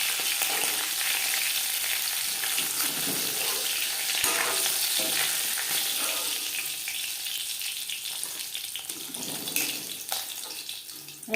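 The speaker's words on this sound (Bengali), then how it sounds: "ভাজা হয়ে গেছে" Pieces of fish and a fish head fry steadily in hot oil in a home kitchen for a Bengali fish curry, a dense continuous crackling sizzle with occasional stirring scrapes and a brief running-tap splash, no voices.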